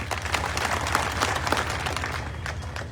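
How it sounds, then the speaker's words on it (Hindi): Audience applause at a political speech in Sahaswan, dense sustained clapping across the whole stretch, fairly loud and steady with no voice over it. "आधी बात पे ताली नहीं बजानी चाहिए"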